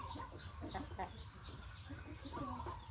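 A breeding rooster at a Thai poultry farm gives soft, brief clucks that are faint and distant over a steady low background rumble, with someone talking quietly nearby.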